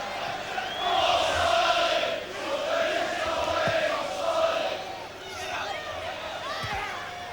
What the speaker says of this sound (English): It's not a big crowd at Twerton Park, but it's very noisy.